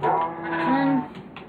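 A cow in the Minecraft video game lets out a single drawn-out moo, loud and clear, with nothing else over it.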